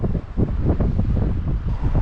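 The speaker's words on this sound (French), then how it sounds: "Il y a quand même un bon petit vent." Strong gusts of wind buffet the microphone in a low, continuous rumble during a bikepacking ride inland from the Péribonka River near Lac-Saint-Jean.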